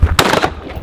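A single loud, sharp pistol shot at a shooting range on a Middle Eastern army base, cracking out close and followed by another abrupt report at the end.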